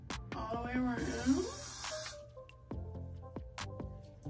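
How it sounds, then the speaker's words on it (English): Water from a spray bottle hisses onto a wig's hairline in one long, close burst lasting about a second, with a voice heard before and around it. "You just spray the hairline"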